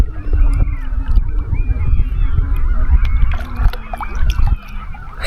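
A noisy crowd of geese at Minatare Lake in Nebraska honks continuously, many overlapping calls near and far forming a dense, loud clamor with low wind or water rumble underneath and no talk.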